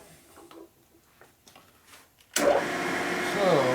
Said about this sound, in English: This is the precision drill press